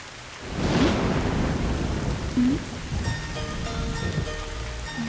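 Steady rain pours with a rolling rumble of thunder, and a low tonal music score rises under the storm partway through.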